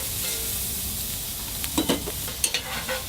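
Onions, garlic and green pepper sauté in a pan for a Philly cheese steak, giving a steady soft sizzle with a few sharp utensil scrapes and taps near the end.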